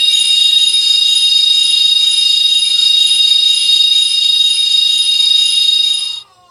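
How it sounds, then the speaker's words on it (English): PlayStation console error tone for pirated games: a steady, loud, high-pitched ringing drone that holds for about six seconds before cutting off abruptly. "It's almost as if PlayStation inserted this just to creep us out enough to never buy pirated games."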